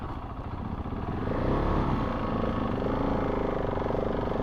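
Adventure motorcycle ridden off-road on a Texas rally route, its engine rising into a loud steady drone under load with rattling over the ground, close and continuous without talk.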